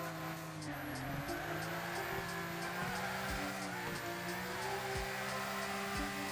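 A Nissan R33 Skyline drifts in the Wreckfest racing game, its engine droning steadily while tires squeal in long sliding bursts, heard at moderate volume under faint game ambience.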